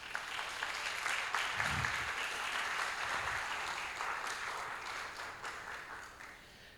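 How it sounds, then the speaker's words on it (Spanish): A church congregation applauds continuously, a dense wash of clapping that holds steady and then begins to fade toward the end. "Dale un aplauso a Él entonces"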